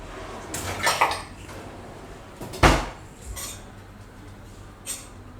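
A small metal bowl knocked and set down in a home kitchen while peanut barfi is made, a few scattered clinks and one sharper clank, near and fairly quiet with no talk.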